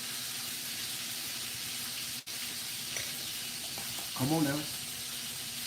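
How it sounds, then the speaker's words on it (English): Chicken sears in hot oil in a pan for a Chardonnay-braised dish, giving a steady, broad sizzle throughout, with a brief voice speaking over it near the end. "So we're giving it a nice sear."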